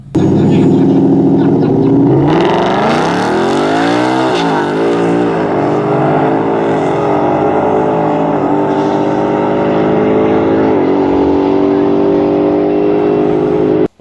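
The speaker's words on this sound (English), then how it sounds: "when I punch the gas, you will know I have a supercharger on the car" A Ford Mustang GT's supercharged V8 revs up hard and accelerates, a loud sustained roar with rising supercharger whine and gear-shift dips, continuing steadily to the end.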